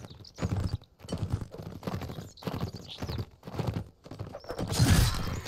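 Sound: horse hooves in video game

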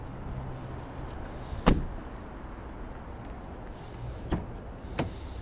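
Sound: Nissan Qashqai electric windows operating

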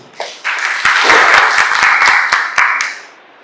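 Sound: loud applause

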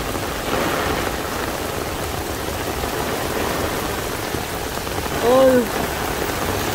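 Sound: heavy rain downpour

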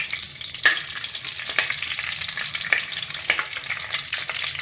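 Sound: pulav whole spices frying in oil

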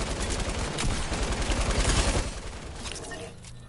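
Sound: gunshots in a video game

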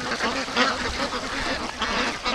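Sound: free range ducks quacking at the lake

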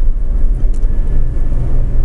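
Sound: hybrid electric bus driving past

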